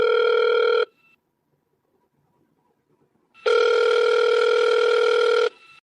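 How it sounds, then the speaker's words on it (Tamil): A telephone rings during an outgoing call, heard as two loud, steady electronic ring tones: a short one at the start and a longer one after a silent gap, close and alone. "போன் பண்ணுதேன்."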